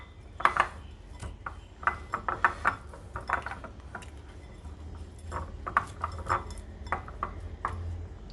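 Chicken pieces tossed with pepper and herbs in a bowl, giving soft irregular clinks, knocks and light rattles of a utensil against the dish at close range, fairly quiet, with no speech.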